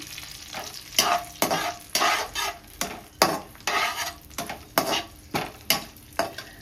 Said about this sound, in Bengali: মশলাটা ভেজে নিই, হালকা একটু ভেজে নেব